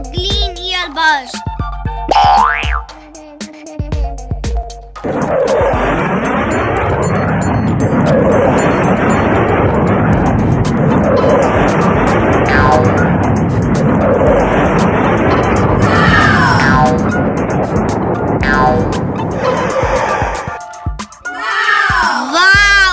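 A toy helicopter's motor whirs steadily and loudly for most of the stretch, with short bursts of noisy tones before and after it.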